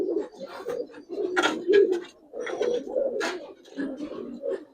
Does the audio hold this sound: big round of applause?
no